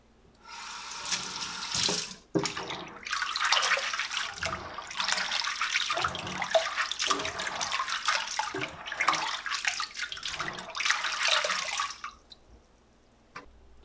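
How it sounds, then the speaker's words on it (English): Tap water gushes into a sink as pinkeye purple hull peas are washed, loud running water in several long bursts with brief pauses and splashing, ending with a quiet drip. "It'll take about 15 minutes to wash these peas and get them in here."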